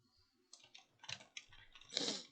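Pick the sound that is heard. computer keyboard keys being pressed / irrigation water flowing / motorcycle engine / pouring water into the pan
computer keyboard keys being pressed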